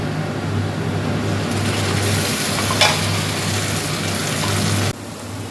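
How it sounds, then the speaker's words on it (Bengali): Spice paste for a chicken curry fries loudly in a pan, a constant close sizzle with stirring scrapes and a low steady hum underneath. "আমাদের মশলাটা পেস্ট হয়ে গেছে দেখো ভাজা হয়ে গেছে"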